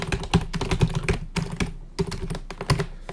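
Rapid, close clicking of keys on a computer keyboard, a fast continuous typing rhythm with brief pauses.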